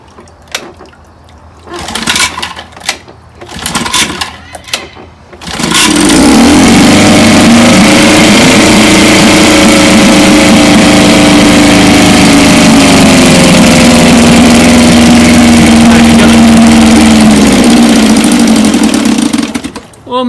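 A 1954 Johnson outboard motor is worked at with a few knocks and pulls, then catches and runs loud and steady at half throttle, its buzzing drone holding for about fifteen seconds before the pitch drops slightly near the end.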